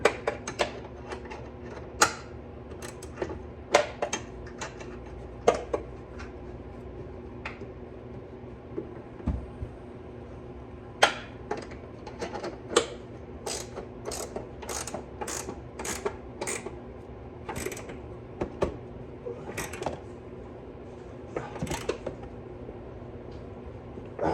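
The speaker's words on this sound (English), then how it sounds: "I'll do the ratchet on this side" Ratchet wrench clicking in short bursts while upper control arms are preloaded on a Cadillac CTS, close mechanical ratcheting and metallic clicks spread irregularly across a quiet garage background.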